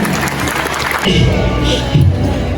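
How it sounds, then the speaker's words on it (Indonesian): Audience applause at an Islamic religious gathering, clapping and crowd noise that swells after a second and continues with light cheering. "Berikan tepuk tangan yang meriah"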